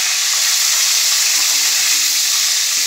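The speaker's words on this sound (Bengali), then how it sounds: "মাছের ঝাল হচ্ছে, মাছ ভাজা হচ্ছে" Fish frying in oil for a spicy fish curry crackles with an intense, close, continuous hiss and spatter, with no talk over it.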